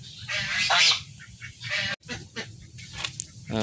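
Domestic geese of a brown-mixed breed honking in several loud close bursts, alone.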